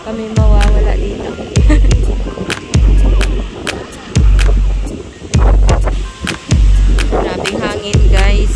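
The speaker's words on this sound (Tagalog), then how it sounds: "Grabing hangin guys." Strong wind at Notre-Dame de la Garde in Marseille, France, buffets the microphone in loud, low rumbling gusts that swell and drop in a steady, repeating rhythm.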